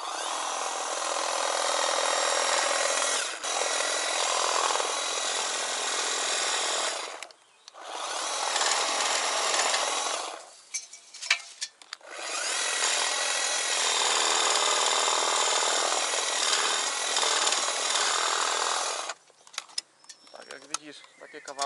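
A battery-powered hedge trimmer shearing thuja (emerald arborvitae) branches held level, loud buzzing cutting bursts broken by short pauses, with a brief voice in one gap.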